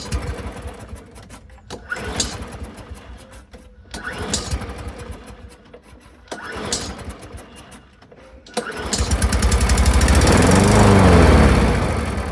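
A Hayter 56 Pro lawn mower engine with a carburetor problem runs unevenly, its loud, uneven drone surging and dipping in pulses every couple of seconds before swelling into a steadier, louder roar near the end.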